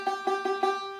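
A banjo's high fifth string plucked with finger picks: four bright, twangy repeated notes at an even pace, close and ringing, the last one left to sustain, with no talk over them.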